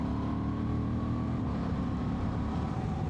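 A Honda XL750 Transalp motorcycle with E-Clutch holds a steady, buzzing engine drone around 5,000 rpm, loud and continuous, with wind rush mixed in.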